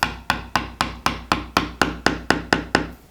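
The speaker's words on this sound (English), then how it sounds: "let's just put the chisel into the mark now and just do small taps until we hear that sound change" Steel chisel struck with small, even taps into wood at a mitred dovetail baseline for a keepsake box; about a dozen sharp, close knocks in a steady rhythm, each with a short woody ring, and no voices.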